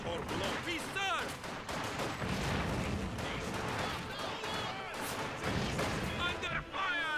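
Dense, continuous battlefield gunfire and explosions rumble through a Company of Heroes 2 match, loud and unbroken, while voices talk over the fighting.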